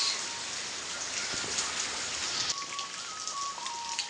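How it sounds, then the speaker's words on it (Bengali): Heavy rain pours down on a courtyard with papaya and guava trees in Bangladesh, a dense, constant hiss, unbroken from start to finish, with no voices. "এত বৃষ্টি হইতেছে বাংলাদেশে"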